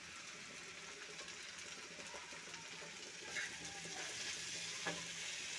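Ground spices, including chilli powder, ginger paste and cumin paste, fry in a pan for a fish and vegetable dish, a quiet steady sizzle with faint scraping stirs and a small clink, no talking.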